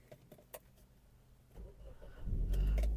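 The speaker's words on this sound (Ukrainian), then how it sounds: "Давайте запустимо двигун." A used Hyundai Tucson with 181,000 km starts up: faint clicks and small noises give way to the starter cranking and the engine catching into a loud, low idle rumble.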